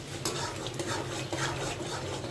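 Eggs are added to egg korma masala and stirred in a pan, making close scraping and stirring strokes with a soft sizzle underneath, and no one speaking.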